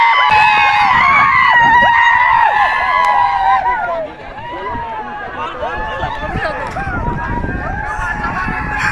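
A crowd celebrates a cricket match win in Mumbai, loud cheering and excited shouting swelling at first and then settling into a busy, sustained roar of overlapping voices with scattered whoops.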